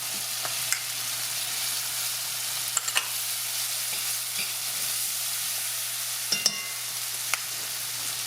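Chopped onion frying with peppers in a pan for Salisbury steak, a steady close hiss of sizzling broken by a few sharp clicks and scrapes as it is stirred.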